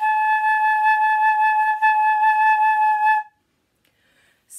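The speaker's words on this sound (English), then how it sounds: "this is the head joint of a flute and it's what you blow into to make the sound like this" A lone flute head joint blown on its own gives a steady, clear, breathy whistle-like tone, held for about three seconds with a brief break for breath partway, then silence.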